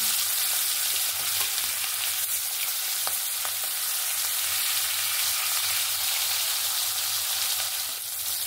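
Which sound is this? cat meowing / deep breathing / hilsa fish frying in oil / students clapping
hilsa fish frying in oil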